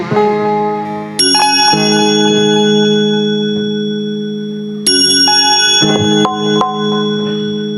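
A bright, ringing temple bell struck a few times, each strike sustaining a long metallic tone that overlaps the next, loud and close with no talking.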